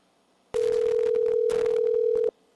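A ringback tone comes through a telephone line when a call goes out at dawn. It is a single steady electronic tone of about two seconds, loud and clean, with brief bursts of line noise around it and nobody talking.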